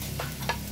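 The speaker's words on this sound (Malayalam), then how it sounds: "സവാള ചേർത്ത് നന്നായി വഴറ്റുക." Chopped medium onions sauté in hot oil in a pan for Kerala chicken rice, a short burst of soft sizzling with a couple of brief stirring scrapes, close and steady, no voices.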